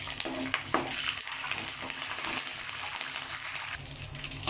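Dried red chillies and curry leaves fry in oil for peanut rice, a soft, fairly quiet bubbling sizzle with a few sharp pops early on, heard alone.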